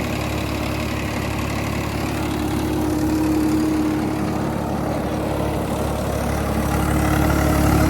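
A Swaraj 969 tractor pulling a 9-foot rotavator runs steadily at about 1500 rpm, a constant low drone with a churning mechanical rattle, close and continuous, no voices.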